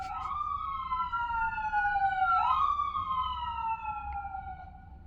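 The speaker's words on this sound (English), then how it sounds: "we are located near a firehouse, so at least once a session during our art gallery time, there's a siren going by" An emergency vehicle siren wails near a firehouse, its long sweeping tone falling, rising again midway and sliding down, steady and fairly close over a low rumble of street noise.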